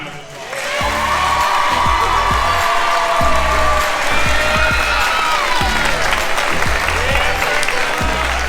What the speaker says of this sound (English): So please make sure you give Brenna here a huge round of applause.